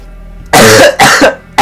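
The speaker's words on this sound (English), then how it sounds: "And I need to cough." A person coughs loudly and close up, three sharp bursts in quick succession while recovering from a recent illness during a DOOM gaming session.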